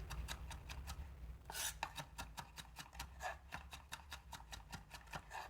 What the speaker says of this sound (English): And you mince the slices this way.